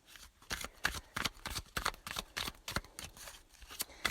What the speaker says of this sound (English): feel free to kind of connect with the cards here before we shuffle them up